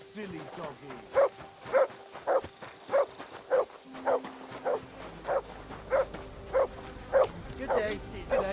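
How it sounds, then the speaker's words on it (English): Dog in the game Kingdom Come Deliverance 2, barking in a steady series of about a dozen evenly spaced, fairly close woofs, with a low background hum beneath. "You silly doggy."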